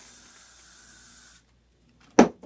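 Hair spray hisses from a can aimed at a section of hair held straight up from the head, a steady near hiss lasting over a second, then a pause and a short louder burst.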